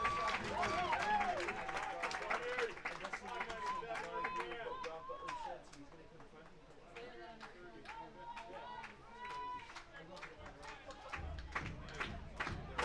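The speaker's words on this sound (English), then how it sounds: "Listen to this crowd." A baseball playoff crowd at a Barrie Baycats home game against the Toronto Maple Leafs claps and cheers in rhythmic bursts. The sound is fairly faint and busy, with many voices, and it holds steady across the whole stretch.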